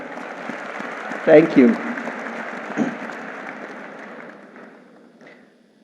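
A product launch event audience applauds, with brief bursts of clapping and a short spoken thanks as the clapping fades away.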